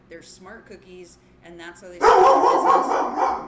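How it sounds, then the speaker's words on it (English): Several dogs bark loudly in the background, a dense burst that starts midway and continues to the end, overlapping a man's lecture speech. "Sorry for the dogs barking in the background."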